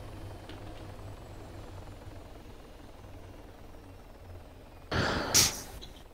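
Helicopter in the game Altis Life, a faint continuous rotor drone with a low throbbing pulse, interrupted near the end by a short louder burst of breathy noise.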